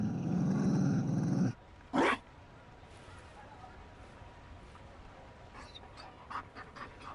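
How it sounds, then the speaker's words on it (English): Mabari war dog in Dragon Age Inquisition, heard as a short burst of panting and huffing at the start followed by a brief snort, then quieter game ambience with faint clicks. "Found a dog. They don't breed mabari in Orlais."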